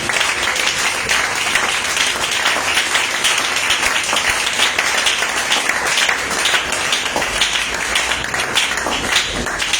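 A Sunday church congregation applauds loudly and continuously, a dense and even wash of many hands clapping together that holds steady throughout.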